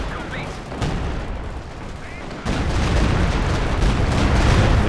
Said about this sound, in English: he's trying to find it for the walking Stuka barrage.